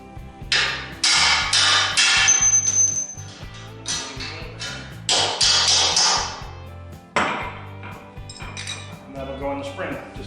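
A hammer strikes metal in quick ringing bursts, driving a copper bushing out of a dump trailer spring, loud and close with sharp clanks and brief pauses.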